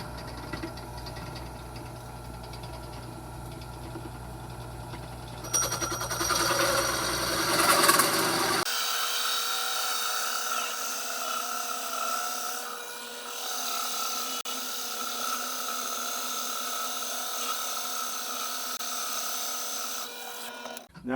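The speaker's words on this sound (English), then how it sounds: "I'm going to drill this side, then I'm going to flip it over and then drill the other side" A power drill bores through wood for a homemade desktop clock: a steady motor whine swells into a louder, gritty burst as the bit cuts in, then settles back into a constant running hum, close and alone.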